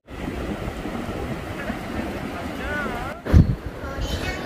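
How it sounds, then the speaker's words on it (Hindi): Strong, cold evening wind roars continuously at the seafront at Sea View, Karachi, buffeting the microphone, with a sudden loud thump near the end and a faint voice briefly audible. "हवाओं की आप आवाज़ सुन रहे हैं, बहुत ही तेज़ हवाएं चल रही हैं"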